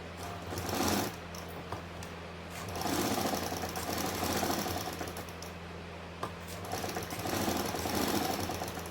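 A sewing machine runs steadily through cloth while a kurti neckline is stitched, with loud, continuous mechanical whirring and bursts that rise and ease as stitching starts and slows, and no voices.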